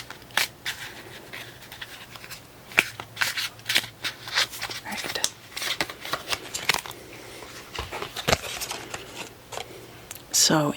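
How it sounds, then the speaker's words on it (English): Tarot cards being shuffled and pulled make close, crisp riffles, snaps and flicks in irregular bursts, sometimes under soft speech. "Again, we'll pull some cards."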